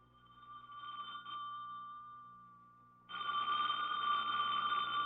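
A telephone rings in an old-time radio drama, a steady electric bell tone that swells, fades, then rings louder and harsher again, alone without voices.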